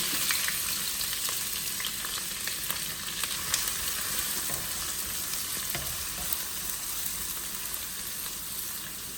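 Continuous crackling sizzle of onions frying in a pan, dense and steady with scattered pops, no voices.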